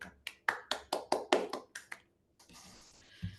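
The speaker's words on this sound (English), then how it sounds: "Let us give a round of applause for distinguished Toastmaster Sourav." A short round of applause in an online Toastmasters club meeting: about ten distinct, close claps in a quick even rhythm, then a pause and a faint rustle.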